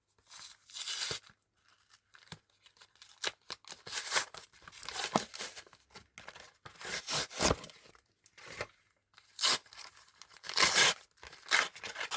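A Pokémon booster pack from a tripack is torn open up close, with repeated bursts of ripping foil and crinkling plastic separated by short pauses.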